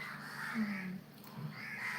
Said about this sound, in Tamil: காக்காவுக்கு சாப்பாடு போடலையா தெரியல காலையிலேருந்து ரொம்ப கத்திட்டு இருக்கேன்